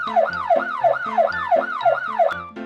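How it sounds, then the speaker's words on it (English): A police car siren wails in a repeating two-tone wee-oo pattern, about five even cycles, loud and close with no talking, as part of a set of vehicle sounds for kids. "A police car goes wee-oo, wee-oo, wee-oo."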